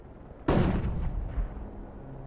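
A flashbang grenade goes off in Counter-Strike: Global Offensive as one sudden loud broadband bang, with a rumbling tail that fades over about two seconds.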